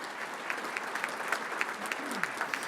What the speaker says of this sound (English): So please give these sponsors and their students a nice round of applause.